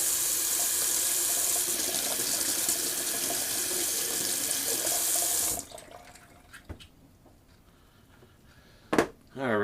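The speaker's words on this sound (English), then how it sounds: "I'm just going to rinse off my razor real quick." A razor is rinsed under a running bathroom tap, a loud steady gush of water that cuts off after several seconds, followed by a few light clinks and a faint drip.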